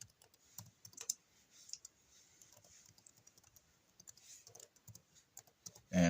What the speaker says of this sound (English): head over to your terminal and inside your virtual environment, type pip install Streamlit, Streamlit Authenticator.